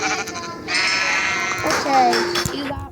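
Sheep bleating in the Minecraft video game, a clear drawn-out bleat standing out over background game sounds, with people talking through it.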